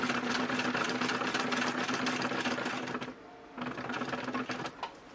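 A vintage Singer Touch & Sew sewing machine embroiders in a steady, close, dense whir of rapid stitching that stops briefly around the middle and then starts up again.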